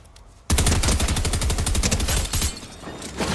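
Rapid automatic weapon fire in a video game, a dense string of loud, evenly spaced shots lasting about two seconds with no talk over it.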